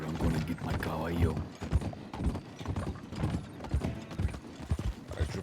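Horse hooves clip-clopping at a steady walking pace, mixed with voices talking over the top and a neigh-like warble early on.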